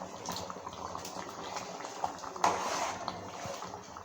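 Spring onion curry gravy bubbling steadily in a pot, a soft continuous simmer of popping and hissing with a sharper clatter midway, no voices.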